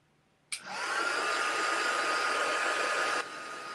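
A craft heat tool blows hot air onto card: it switches on abruptly with a whooshing onset, then a steady, close, loud airflow whine continues for under three seconds before dropping to a lower hum.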